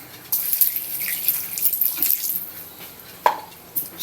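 Water poured in while preparing tulingan fish for a coconut-milk stew, giving a soft running splash with a few brief drips and a sharper splash near the end, close and fairly quiet.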